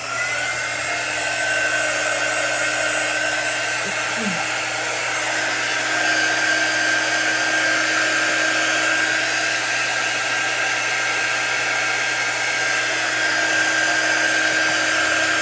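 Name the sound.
hair dryer drying chalk art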